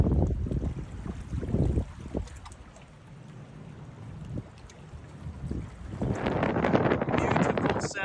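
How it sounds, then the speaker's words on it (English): Strong wind of about 20 knots while sailing, a loud rushing roar over the microphone with water wash and gusts that swell louder toward the end. "Beautiful sailing weather we're having. 20 knots of wind on the nose."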